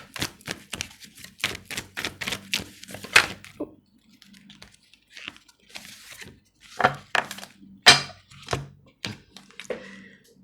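Tarot cards are shuffled and flipped onto a table, giving a rapid string of crisp, close snapping clicks, then a quieter pause, then more scattered slaps and taps of cards landing.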